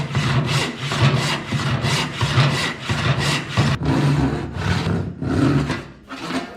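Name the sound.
hand saw cutting a wooden board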